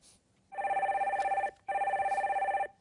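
Telephone connecting a radio call-in line rings twice, each a sustained warbling electronic ring about a second long separated by a short pause, clear and alone.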